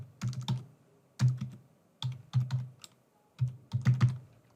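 Typing on a computer keyboard while entering an email address into a web form, heard as four close, distinct bursts of rapid key clicks separated by short pauses, with no talking.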